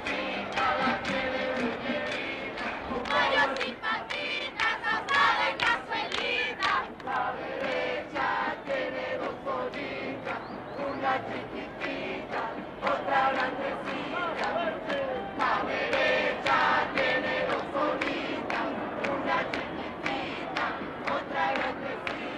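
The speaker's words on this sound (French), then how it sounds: "Cette foule, c'est la force du président Allende" A large crowd of supporters of President Allende in Chile, 1973, roars and chants continuously with massed voices and rhythmic shouting, loud and close throughout.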